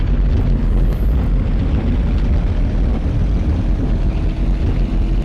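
A simulated aircraft engine throttling up for takeoff in the World Flight video game, a dense, steady broadband roar with propeller-like drone, loud and continuous throughout without talking.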